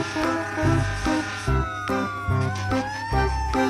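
An electronic toy fire truck siren wails in a rising and falling pattern, broken by rhythmic low pulsing thumps, loud and close with no talking.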